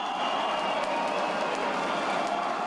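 Basketball arena crowd in São José roaring steadily as the home team takes the lead, a dense sustained cheer from many voices.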